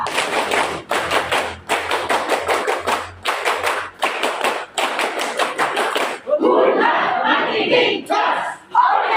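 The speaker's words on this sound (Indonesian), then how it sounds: "2 kali tepuk pramuka" A scout group performs the rhythmic Pramuka clap twice, with crisp patterned bursts of many hands separated by short pauses, followed by a livelier mix of claps and voices.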